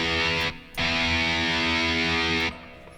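A heavily distorted virtual metal guitar, Ample Sound Metal Hellrazer, sounds its low E open string twice, each note sustained with a dense buzzing tone and a short break between.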